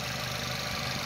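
A 2010 Volkswagen Golf Mk6 automatic idles, a steady even hum with no change in pitch or loudness over about a second.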